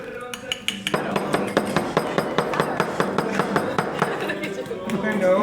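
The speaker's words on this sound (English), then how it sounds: "you bang it on your hand so the cream evenly distributes in the glass" A glass filled with cream knocked repeatedly against a palm during Italian dessert making, a rapid run of sharp, evenly spaced clinking taps close up, some twenty knocks in a steady rhythm with faint background noise.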